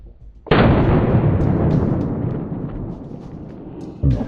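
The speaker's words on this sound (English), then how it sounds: "44 Magnum versus a Cantaloupe." A single loud blast from a Colt Anaconda .44 Magnum revolver shot into a cantaloupe, booming close up and then decaying over a few seconds.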